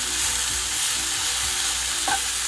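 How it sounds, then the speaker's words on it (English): Continuous loud sizzling and crackling of spiced okra frying on a hot tawa griddle, close up, with a brief scrape near the end. "okras are really sizzling and cooking, and they're getting a little toasted"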